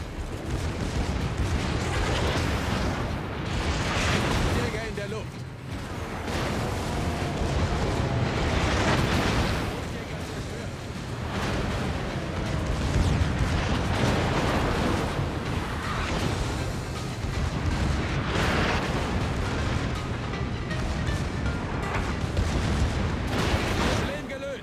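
Naval gunfire and shell explosions in World of Warships, the Graf Zeppelin taking fire from the Yamato, a dense continuous barrage of booming blasts and rumbling detonations, loud and close throughout.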